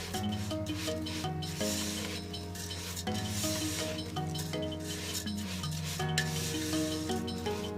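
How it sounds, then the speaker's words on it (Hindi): Vermicelli frying over a medium flame while a spoon stirs constantly, producing continuous scraping and rubbing against the pan in a steady rhythm with a soft sizzle underneath. "मीडियम फ्लेम पर सेवइयों को फ्राई करना है और मुसलसल चम्मच चलाते रहना है"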